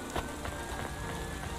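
Constant rain falls across the city streets of the video game Cloudpunk, a soft, even patter at low volume with a few slightly stronger drops and no voices.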